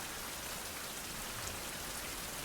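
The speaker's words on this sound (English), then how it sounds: "It's raining." Steady, dense rainfall in the survival video game Survival: Fountain of Youth, a constant hiss with no talking.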